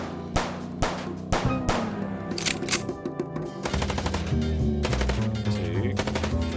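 Gunfire from the video game Chicken Police: loud rapid bursts of automatic shots and single cracks overlap with a steady musical game soundtrack, dense and continuous throughout.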